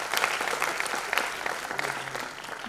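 Audience applause at a birthday celebration and album launch for a singer: a steady wash of dense clapping held at an even level throughout, with a faint voice briefly underneath near the end.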